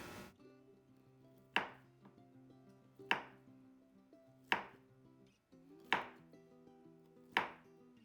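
A knife chops preserved basil on a board in five sharp, evenly spaced thuds, close and distinct, with a faint hum in the background.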